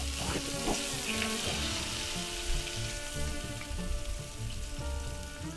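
Venison steaks crackle and hiss steadily with butter melting on top, cooked over a fire log outdoors; a dense, continuous close sizzle with no talk.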